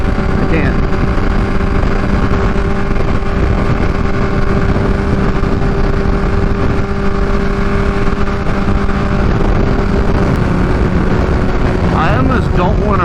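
Kawasaki Ninja H2 supercharged motorcycle fitted with a Vandemon exhaust, ridden on the highway: a steady, loud engine and exhaust drone with wind rush running throughout, heard from the rider's position.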